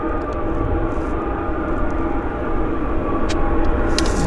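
A jet arriving from Incheon Airport, Seoul, rumbles in on approach to a wet runway at Vancouver airport, a loud, continuous low roar that swells slightly toward the end, with no speech.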